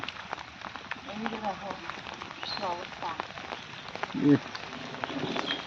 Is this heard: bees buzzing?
no